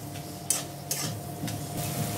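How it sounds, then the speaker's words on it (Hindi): Spice masala with soya granules stirred and roasted in a pan, a quiet steady sizzle broken by a few soft scrapes and clinks of a spoon against the metal. "अब हम इसको अच्छी तरह से मिक्स करके ये मसाला सेक लेंगे।"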